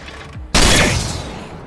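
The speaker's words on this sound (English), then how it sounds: "every time I shoot one of these things" A single loud gunshot from the zombie video game Dead Rising 4 cracks out sharply and close, trailing into a lingering noisy echo with no talk.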